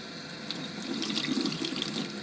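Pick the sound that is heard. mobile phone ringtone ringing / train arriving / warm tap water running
warm tap water running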